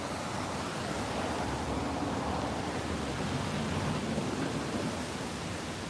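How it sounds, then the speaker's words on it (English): A street-side waterfall on the Mid-level Escalator walk gives a steady, broad rushing roar of falling water, constant and fairly distant, with no talk over it. "There's another one over there. The waterfall thing."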